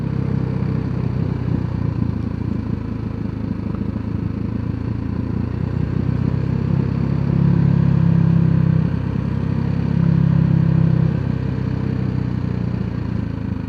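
A BMW G 310 GS motorcycle riding on a road in Bali, Indonesia, its engine a steady close mid-pitched drone with slight swells as the throttle and engine braking shift, no voices over it.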